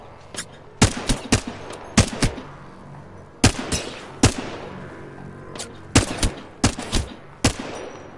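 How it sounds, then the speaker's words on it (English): Gunfire in Apex Legends during a ranked match: sharp, loud bursts of shots in clusters, some rapid and rattling, spaced out over several seconds, with short gaps of low ambience between volleys. "I'm taking fire, friends."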